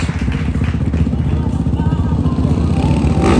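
Rumbling motocross motorcycle engines at the Calgary Stampede drone steadily at close range, a low throbbing roar with faint clatter mixed in.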